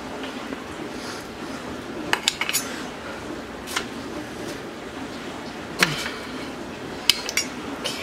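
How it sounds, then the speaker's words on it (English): Cooked meatballs are placed into glass canning jars, giving soft clinks and taps of glass and utensils scattered over quiet background noise, with a few sharper knocks standing out. "We're gonna pop these into our jars."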